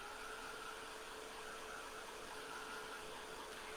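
Steady, even rush of a hand-held dryer blowing air over a painted craft background, a constant broadband hiss at low volume with no pauses and no voices.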